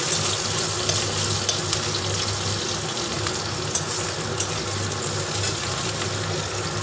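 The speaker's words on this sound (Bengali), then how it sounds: "একটু শুকনো লঙ্কা তেজপাতা দিয়ে পেঁয়াজ কুচিটা ভেজে নিচ্ছি একটু লাল লাল করে।" Chopped onion frying in mustard oil with dried red chili and bay leaf, a steady close sizzle with wet crackle running throughout, unbroken by talk.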